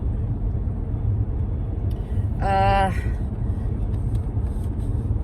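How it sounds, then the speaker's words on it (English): Road traffic noise inside a vehicle on the way to Warsaw, with a steady low rumble and a truck following close behind; a brief horn-like tonal blast cuts in midway, and someone talks over the drone. "The truck behind me is awfully close."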